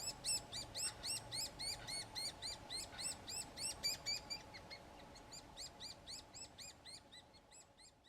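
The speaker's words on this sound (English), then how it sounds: "This is a cute little chick that is begging to be fed." A starling chick begs to be fed at a nesting cavity, sending out a steady run of rapid, high, raspy chirps that fade slightly toward the end, close and loud over a low background hum.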